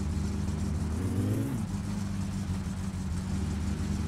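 A car engine with a broken muffler in the driving game My Summer Car, idling with a rough, loud drone and briefly revving up before dropping back to a steady low rumble.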